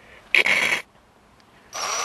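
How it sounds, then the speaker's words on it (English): A left-hand drill bit drills out a prick-punched screw on a floor sander, heard as two short, loud bursts of a close power drill with a quiet pause between them. "so put a left-hand drill into the screw, which I prick punched"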